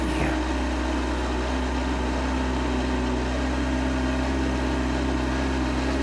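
A supercharged 2021 Kawasaki Z H2 SE motorcycle engine runs at a steady idle for about six seconds, giving a loud, constant hum with an even mechanical drone and no revving.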